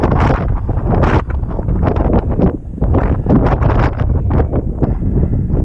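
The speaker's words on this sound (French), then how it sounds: "Il y a beaucoup de vent, il y a plus de vent quand même" Strong wind roars on the GR20 mountain hiking trail in northern Corsica, buffeting the microphone in a loud, continuous, gusty rush with no voices.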